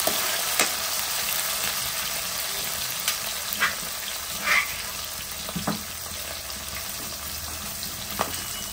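A soft, steady sizzle of ginger garlic paste frying in a pan, broken by a few scattered clinks and scrapes of stirring, with no talking.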